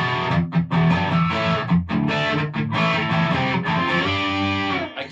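Electric guitar played through a NUX Horseman overdrive pedal, loud and continuous with driven, gritty chords and notes, a few brief gaps between phrases and no talking.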